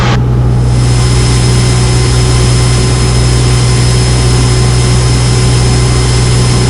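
Cessna 150 engine drone inside the cockpit during flight with power being reduced, a loud, steady low hum with constant tonal bands that continues unbroken throughout, no voices.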